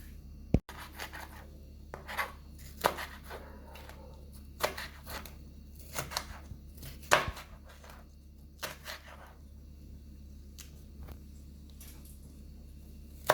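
A knife slicing through cabbage and other vegetables for steamed Jamaican cabbage: sparse, soft cutting taps and crisp snips on a board, quiet and irregular, with no voices.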